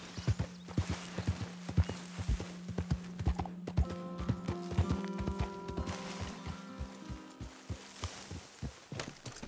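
Horse hooves clip-clop steadily in Red Dead Redemption 2, a close, even rhythm of hoofbeats running throughout, with a sustained tonal hum rising in the background midway.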